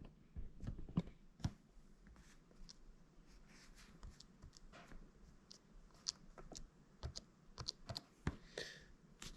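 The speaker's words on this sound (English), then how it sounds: "this is a label maker. Okay, so we're just going to type in" Irregular light clicks and taps come from fingers typing on a small handheld label maker's keyboard, quiet and close, with short bursts and pauses between keystrokes.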